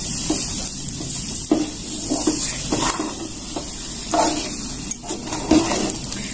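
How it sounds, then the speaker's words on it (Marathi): A spoon stirs a sabudana barfi mixture in a pan over a soft sizzle, with repeated scraping strokes and light knocks against the metal, close and unhurried. "आता छान असं मस्तपैकी हलवून घ्यायचं"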